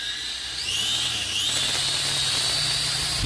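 Whining, high-pitched buzz of the MJX X600 hexacopter's electric motors spinning up after a motor replacement, rising in pitch and holding steady, close and loud, with no talk.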